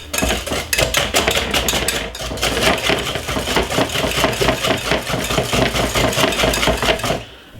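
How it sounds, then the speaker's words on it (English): A whisk beats dark chocolate sponge cake batter by hand in a bowl, with fast rhythmic clinking and scraping strokes that carry on steadily, close and loud. "get a whisk like this and just give it a nice lovely whisk"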